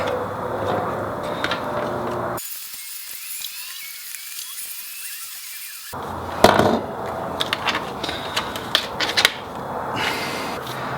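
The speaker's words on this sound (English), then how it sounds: "use a razor blade to cut out this intersection so that we can cut that knockout out" A razor blade cuts through plastic to remove a knockout while fitting reverse lighting on a Jeep Gladiator; close, irregular scraping and clicking cuts come in short bursts, with a muffled stretch in the middle.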